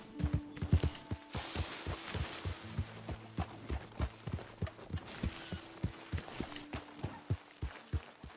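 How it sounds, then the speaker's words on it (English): Horse hooves in Red Dead Redemption 2 clip-clop at a steady walking rhythm, close and distinct, with some low background tones in between. "Get the horse out of here."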